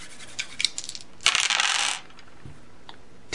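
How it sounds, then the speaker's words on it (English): Dice rattling and clattering across a tabletop during a miniatures wargame, a burst of scattered clicks followed by a dense tumbling roll lasting under a second, then settling to quiet. "So let's see these dice roll."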